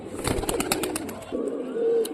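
Pigeons of an old Rajshahi bloodline cooing nearby, a series of soft, rhythmic low coos repeating over a couple of seconds with quiet background.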